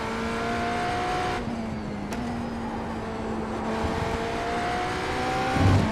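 BMW race car engine in the iRacing sim at Monza, a sustained, steady drone whose pitch shifts gradually, with a brief dip and a louder burst near the end.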